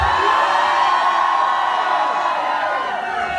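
At a rap concert in St. Louis, a dense crowd keeps up a loud, continuous roar of cheering and shouting for several seconds, with whoops rising out of the mass.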